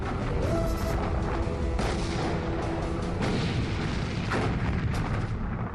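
Continuous heavy booms of distant naval artillery fire between battleships, repeated sharp blasts over a deep rumbling roar, loud and relentless with no voices.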